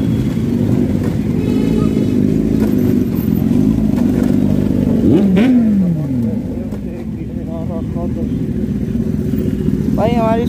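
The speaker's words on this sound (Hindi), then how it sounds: "hi hi ZX10R is the best bike" A Kawasaki ZX10R motorcycle engine drones steadily while riding on the road, a loud continuous hum with a brief rising rev midway, and voices talk over it throughout.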